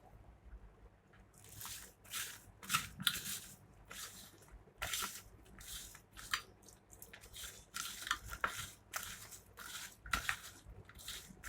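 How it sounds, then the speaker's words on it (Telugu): Finely pounded jaggery is squished and mixed by hand with a little water for chalimidi, giving soft, wet squelching and dripping sounds in an irregular rhythm, close and fairly quiet, with no talking. "బాగా కలుపుకున్నాము ఉండలు లేకుండా."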